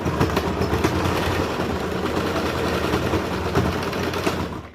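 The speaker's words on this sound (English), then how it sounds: "we're going to stitch that closed" A sewing machine runs continuously while stitching a face mask closed, giving a dense, steady mechanical whir and clatter that stays loud and close throughout, with no talking.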